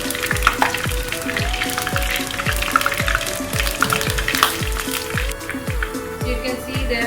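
Sliced garlic cloves fry in oil for kari pakora, a dense close sizzle with a steady series of regular knocks or thumps running beneath it.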